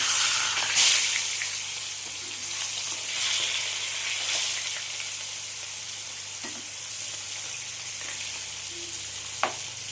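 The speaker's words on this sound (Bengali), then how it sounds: "তেল গরম হয়ে গেছে। এবার আমি মাছগুলো ভেজে নেব।" Surmai fish fries in hot white oil in a pan with a constant close sizzle, a few soft stirring clinks and one brief sharp tap near the end, with no talking.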